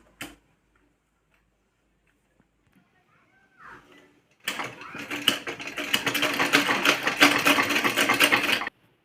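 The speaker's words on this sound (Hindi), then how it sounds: "इस तरह से सिलाई करेंगे यहाँ पर।" A sewing machine stitches kurti fabric. After near silence and a few faint knocks it starts up and runs in a fast, steady, close mechanical chatter for about four seconds, then stops abruptly.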